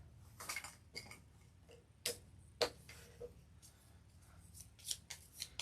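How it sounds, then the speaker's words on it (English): Five game tiles are shuffled on a tabletop, producing quiet, irregular clacks and scraping clicks close to the microphone over a low background hum. "I'm just going to shuffle up these 5 tiles"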